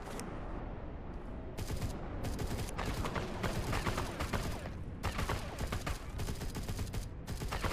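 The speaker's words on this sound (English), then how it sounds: "Can you shoot through them?" Gunfire in the video game Scorched Earth Ascended comes in repeated bursts of rapid shots over a continuous rumbling background, fairly loud and close throughout.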